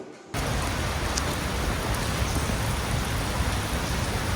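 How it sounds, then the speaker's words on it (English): Rain bursts in suddenly and then pours down heavily as a steady, dense hiss, loud and close with no break, over a road ride on a Triumph Bonneville in Scotland. "Caught out in the rain with no choice but to just get going, and no waterproofs at all."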